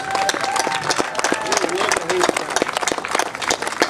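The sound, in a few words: rally crowd round of applause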